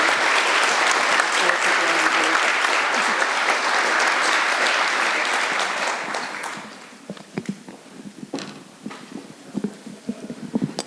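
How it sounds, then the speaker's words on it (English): An audience claps for the panelists at a renewable energy utility panel session, a dense, loud burst of applause that holds for about six seconds and then thins out into scattered claps and room noise. "Can we get a round of applause for the panelists?"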